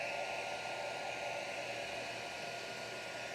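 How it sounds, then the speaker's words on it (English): Heat gun blowing over resin work, an even, unbroken rushing whoosh with a steady electric motor hum, close but fairly quiet, lasting throughout with no voices. "remember to friggin' plug in your friggin' heat gun"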